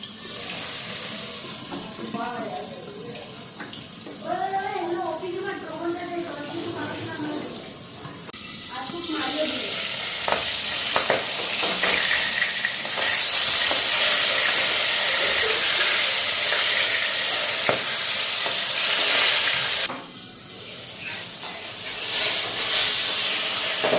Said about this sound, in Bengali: তো এদিকে মাছ ভাজা তো বসাই দিলাম